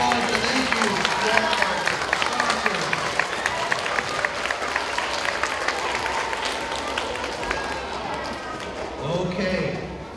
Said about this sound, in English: So a round of applause and thank you.